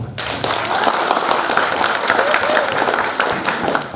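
Audience at a stunting-prevention outreach event in a Malang village gives a dense, steady burst of clapping that fills the few seconds, with crowd noise mixed in.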